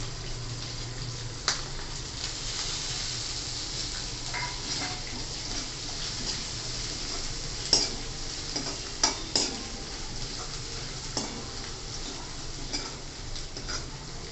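Tempering sizzles steadily in a pan for dal palak, with crushed fresh coconut, green chilli and coriander going in; the hot oil crackles continuously while occasional sharp clinks and stirring knocks break through, with no talking.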